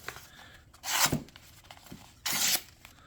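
A Faulkner 5 knife makes test cuts, giving two separate, fairly loud rasping slices roughly a second and a half apart, with quiet handling noise between them.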